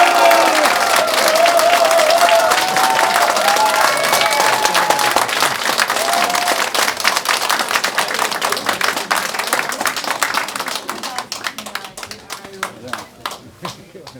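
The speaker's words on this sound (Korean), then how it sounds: "우리 대표님께 힘찬 박수 부탁드립니다." A crowd at a political campaign rally claps in sustained applause for the party leader, loud and dense at first, then thinning into scattered individual claps as it fades; a voice speaks briefly in Korean early on.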